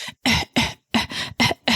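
A run of six short, sharp coughs in quick succession, close and fairly loud, with brief silent gaps between them.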